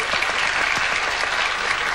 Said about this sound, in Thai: เสียงปรบมือเป็นแรงใจหน่อย